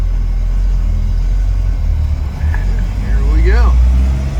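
A 1974 Land Rover pulls away in first gear with a deep, loud engine rumble that swells as it moves off, while a person speaks briefly over the engine.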